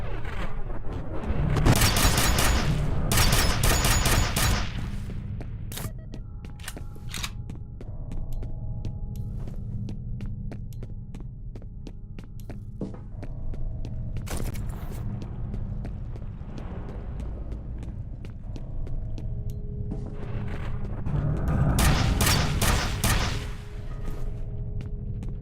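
Gunfire in the video game F.E.A.R. comes in two long, loud bursts of rapid automatic shots near the start and near the end. Between them are scattered single shots over a low, throbbing hum.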